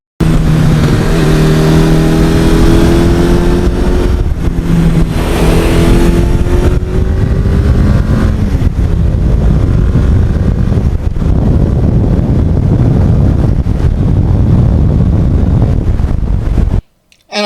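A 1982 Suzuki GS1100E motorcycle revs while being ridden, a loud engine roar with rising and falling pitch in the first seconds, then a steady rumbling drone with wind noise, cutting off abruptly at the very end.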